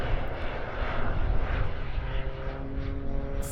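An aerobatic Pitts biplane fitted with a jet engine flies a flat spin during a display at a 2024 airshow, its engine drone steady and fairly distant for several seconds with no talk.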